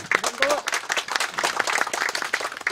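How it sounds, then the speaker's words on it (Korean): An audience at a rice-transplanting demonstration event in Icheon gives scattered, moderately loud clapping while a voice keeps talking over it. "격려 응원의 박수 한번 좀 보내주세요"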